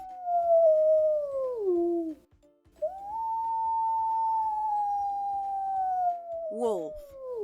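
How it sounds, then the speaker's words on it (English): A wolf howls in two long, sustained wavering calls, the first falling in pitch and the second holding steady before dropping, clear and prominent, with a brief yip-like break near the end. "Wolf,"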